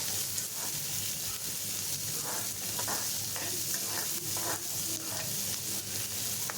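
Onions sauté in a pan with dried red chillies for a chutney. A steady sizzle runs throughout, broken by repeated stirring scrapes and clinks from about the middle onward, and there is no speech.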